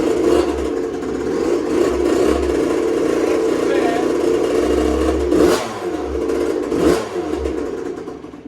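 A 2001 Suzuki RM 85 two-stroke dirt bike with a rich pilot circuit starts and runs, its engine droning loud and close with several sharp revs and blips that rise and fall.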